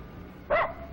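A single short bark from a dog pulling on its lead, heard once midway through an otherwise quiet stretch, fairly close and moderately loud.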